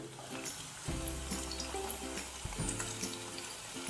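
Salted onions and carrots cook in a pan for vegetable masala pasta, giving a steady close sizzle with light stirring and scraping throughout.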